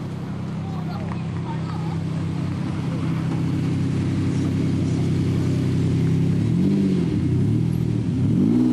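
A Lamborghini Diablo SV engine drones steadily at Brooklands, then revs sharply in several rising and falling bursts near the end. A voice talks over the loud engine.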